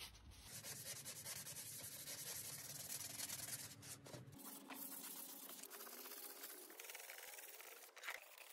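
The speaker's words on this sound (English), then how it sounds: "next I sanded the inside and cleaned it with some acetone to hopefully help the glue stick better" Steady abrasive rubbing of sandpaper scouring the inside surface of a homemade body armor plate, close and continuous with a rough scraping texture that shifts in tone partway through.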